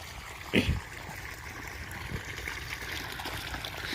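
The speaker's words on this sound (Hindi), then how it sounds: "मोटर में कतका पानी आथे ओला देखाऊँ" Water from a borewell motor pump on a farm gushes and trickles in a steady stream, with a brief splash or thump early on.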